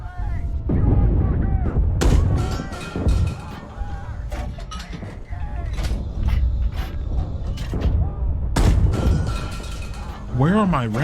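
Cannon rounds firing in the PC video game Gunner Heat, a dense run of sharp, loud bursts and mechanical clanks layered over constant rumbling battle noise, with a voice talking briefly partway through.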